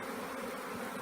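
A swarm of honey bees buzzes around a tree, a continuous, even drone of many wings filling the air, moderately close and steady without breaks.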